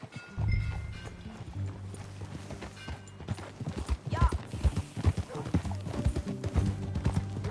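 Horse hooves clip-clop at a walking pace close by in the video game Red Dead Redemption 2, with a horse whinnying and people talking over the steps.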